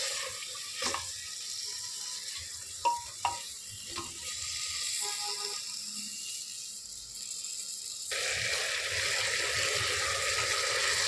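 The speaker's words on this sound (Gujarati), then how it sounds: "આ બધી ગુવાર આપણે તેમાં નાખી દઈશું અને તેને પણ ધીમી આંચે હલાવી લેશું" Whole guar beans being stirred in a pan over low heat for a garlic curry, with steady sizzling and a few sharp clinks of a utensil against the pan, the frying growing louder toward the end.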